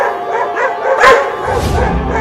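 Two dogs bark and yip in a Hindi Chintu cartoon, a run of quick, close, loud yaps with one sharper burst near the middle and no talk over them.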